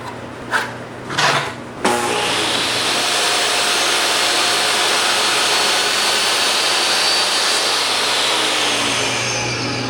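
A fan runs steadily in a very hot room, a loud broad whooshing drone that holds for several seconds after a few brief bumps and rustles at the start.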